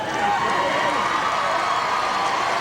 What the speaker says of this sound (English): that youngster gets applause from the crowd for his effort